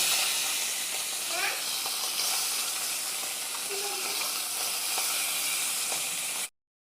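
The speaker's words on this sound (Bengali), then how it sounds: "সব মাছগুলো ভাজা হয়ে গেছে আমার," Loud, steady sizzling of parsa fish frying in hot oil in a kadai, a bright hiss with faint crackles, cut off abruptly near the end.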